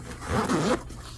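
A zipper pocket on an Ask Echo SLC-130 golf cart bag is unzipped in one quick, close, rasping pull lasting about half a second.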